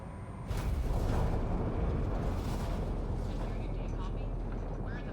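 Spaceship in the video game Mass Effect Andromeda decelerating toward a planet, a dense roaring rumble that swells in and holds loud and steady, with voices talking over it.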